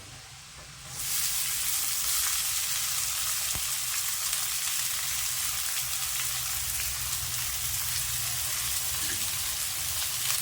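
Garlic, ginger and green chillies for momo filling hit the hot oil and break into a loud, dense, steady sizzle that holds close and even to the end.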